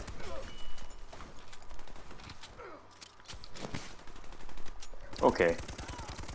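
Gunfire rings out in the video game Army of Two: The Devil's Cartel, with bursts of rapid shots and heavier reports over a busy game soundscape, and a player briefly talks over the action.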